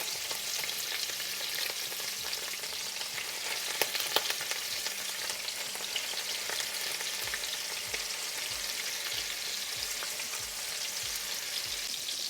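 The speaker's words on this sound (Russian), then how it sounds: "Выкладываю мясо после того, как сливочное масло растаяло. И буду обжаривать с каждой стороны до румяности." Beef medallions fry in melted butter in a pan with a steady, dense sizzle and crackle that holds evenly throughout, close and moderately loud, with no talk.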